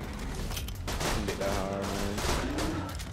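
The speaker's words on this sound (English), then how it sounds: "open fire! Shoot him in the face!" Bursts of gunfire in the video game Borderlands 2, dense overlapping shots and impacts over a busy game soundscape, with a brief tonal effect mid-clip.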